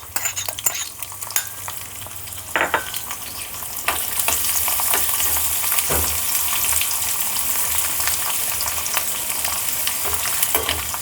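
Loud, steady sizzling of chopped garlic frying in hot oil with asafoetida, with occasional scraping stirs and sharp pops.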